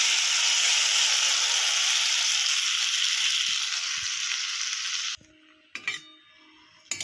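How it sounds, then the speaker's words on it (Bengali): Spice paste for bottle gourd shukto sizzling loudly in a hot pan for several seconds, then the hiss drops away, leaving a quiet pan with a few clinks of a spoon stirring. "এইবারে যে মিক্সিতে যে মশলার পেস্টটা করে রেখেছিলাম সেটা দিয়ে দিচ্ছি"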